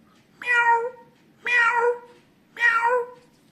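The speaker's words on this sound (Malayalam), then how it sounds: "ഇനി കുറച്ചുകൂടെ ആ പൂച്ച വലുതാകുകയാണെങ്കിൽ ആ പൂച്ച എങ്ങനെ കരയുമെന്ന് നോക്കാം." An older cat meows three times in a slow, regular rhythm, each call drawn out and fuller than a kitten's cry, close and clear against a quiet background.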